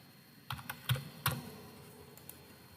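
Several separate keystrokes on a computer keyboard while C++ code is typed: sparse, crisp clicks close by, a few clustered near the middle, then one more tap after a pause, with no voice.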